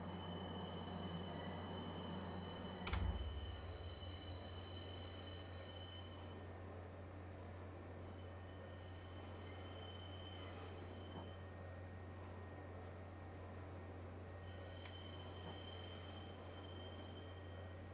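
A train in the Star Citizen video game runs with a steady low rumble and a sharp clunk early on, plus faint high squealing tones that come and go, with no talk.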